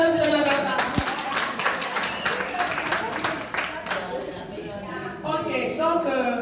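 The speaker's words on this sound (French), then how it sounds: "On applaudit Natacha." An audience at a Relief Society anniversary gathering of a ward in Côte d'Ivoire claps for a woman, with scattered applause mixed with voices talking over it.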